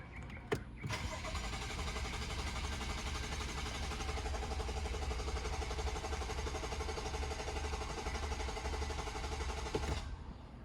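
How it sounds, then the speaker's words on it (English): A BMW F10 with the N55 engine cranks without firing during oil priming, the starter churning steadily and loudly for about ten seconds with no catch before cutting off. "So I'm going to start the engine."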